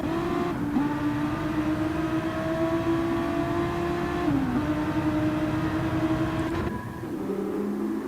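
Race car engines in a GTC racing video game drone at high pitch as a pack of cars runs together, with steady whining revs, brief shifts in pitch as they change gear and pass by.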